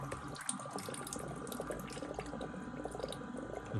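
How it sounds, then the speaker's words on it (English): Water from a countertop reverse osmosis system flushing straight into a sink, a steady close splashing stream running throughout. "Another option, because it holds so much water, is to just let it go right into the sink."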